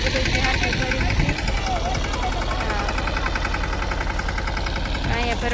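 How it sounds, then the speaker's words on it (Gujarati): A tractor engine runs steadily on a farm with a close, continuous throbbing drone. People talk over it throughout. "મમ્મી ટ્રેક્ટર આગળ લઈ છે"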